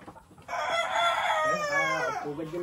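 Chickens near eggs, with one loud, close fowl call stretching about two seconds, harmonic and wavering, after a short quieter start.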